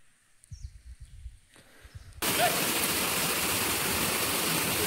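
A mountain stream pours steadily down a rocky forest trail at Andharban on a foggy trek, with reduced flow outside the monsoon. A faint voice is heard first, then a sudden loud, continuous rush of water fills everything.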